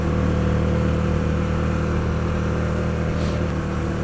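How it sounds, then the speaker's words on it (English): A 2008 Hyosung GT125R V-twin motorcycle engine runs at a steady, loud idle, a continuous low throbbing drone close by, with no voices. "Oh, it's a V-twin, that V-twin purr"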